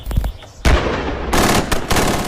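Bursts of gunfire from French military weapons during a training exercise in hills, loud sharp reports and sustained volleys with a noisy, reverberant outdoor character and no voices.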